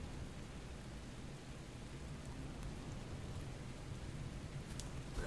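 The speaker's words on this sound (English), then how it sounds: "A large storm is coming." Steady rain from an approaching storm in the video game Expedition Zero, a continuous hissing downpour with faint thunder undertones, heard alone without talk.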